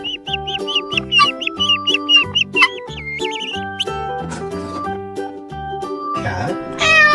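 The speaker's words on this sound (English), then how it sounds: "Duck." A toy duck on a farm-animal puzzle gives repeated electronic quacks over a bouncy synthetic music loop, loud and close, with the calls growing busier toward the end.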